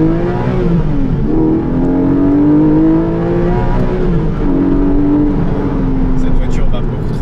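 A Porsche 718 Boxster GTS 4.0 flat-six engine roars and climbs through the revs under hard acceleration, loud and close, with brief dips between gears.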